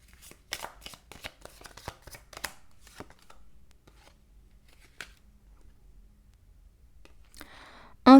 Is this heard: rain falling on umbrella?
no